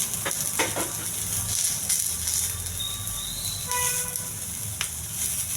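Onions, green chillies, coconut, chana dal and tamarind frying in a little oil on a hot pan make a steady broadband sizzle, with some faint tonal background sounds.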